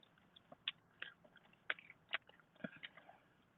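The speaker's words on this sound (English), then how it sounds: "I'm gonna stop chewing in your ear." Close-up chewing of a salad with dried apple slices, grilled chicken and red onion: a series of crisp, irregular bites and crunches right by the microphone, with no talk.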